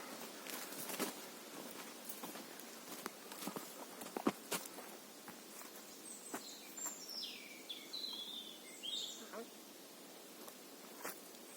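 Footsteps crunch along a road through a pine and hornbeam forest in a steady walking rhythm, close and fairly quiet. Faint bird chirps join midway.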